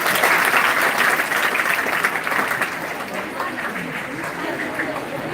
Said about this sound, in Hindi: हाँ बहुत बढ़िया, ताली बजाओ इसके लिए पहले।